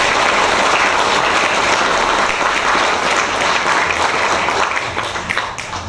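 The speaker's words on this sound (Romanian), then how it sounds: "Aplauze pentru toți!" Sustained audience applause fills a theatre in Focșani, a dense, steady wash of clapping that thins slightly toward the end.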